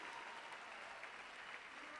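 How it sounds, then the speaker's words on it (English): Audience at a live tribute show applauds performers taking the stage, a faint but steady roar of clapping from a large crowd heard from a distance. "let's give them a round of applause"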